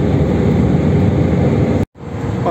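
Cabin of an Air France airliner on an Athens–Paris flight, seated beside the jet engine and right wing: a loud, steady broadband roar that fills the space, cutting out briefly near the end before resuming.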